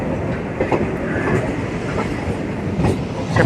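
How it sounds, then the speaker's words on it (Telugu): Chennai Beach local electric train running on a parallel track, a steady loud rumble of wheels and carriages with faint clattering throughout. "Beach local, Chennai beach local అండి అది వచ్చేసి."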